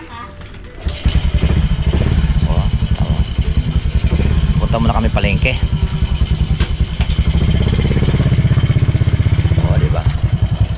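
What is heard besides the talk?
motorcycle engine running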